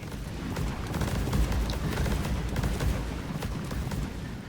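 Smart rifle firing in Deep Rock Galactic, a dense, loud stream of rapid punchy shots running steadily without a break, with no voices over it.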